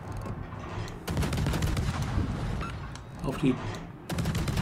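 Ship guns boom in World of Warships, with repeated bursts of heavy gunfire and explosions rolling through the clip while someone speaks German over the battle.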